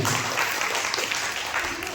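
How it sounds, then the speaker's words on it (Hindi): A crowd at a meeting breaks into sustained, dense applause, a thick wash of many hands clapping at once with a few voices mixed in underneath. "एक बार जोरदार ताली हो जाता है।"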